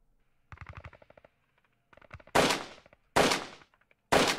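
Short automatic bursts from an AK-47 in Hand Simulator ring out loud and close, three sharp volleys separated by brief pauses, with quieter rhythmic clicking and thumping earlier on.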